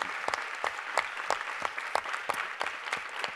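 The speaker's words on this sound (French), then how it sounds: "on peut l'applaudir vraiment du fond du cœur" An audience at the Web2day 2019 grand final applauds, with a moderate patter of many hands and sharper individual claps standing out at irregular intervals, steady throughout.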